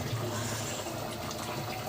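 Water is poured into a cooking pan of bottle gourd greens and potatoes, making a continuous rushing splash that stays even and close for the whole moment.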